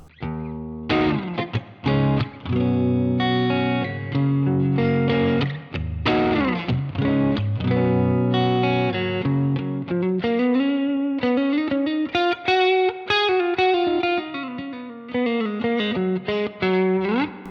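Electric guitar through a clean Deluxe Reverb amp model plays chords and then single-note lines with bends, loud and close, with a slightly gritty, effected tone.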